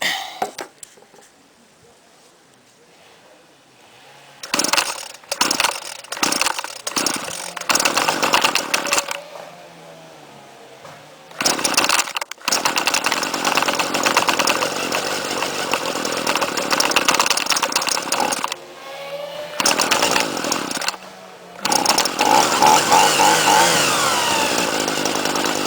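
A two-stroke garden trimmer engine fires after priming and runs alone, loud and raspy, revving and dropping in several bursts with brief cut-outs between them.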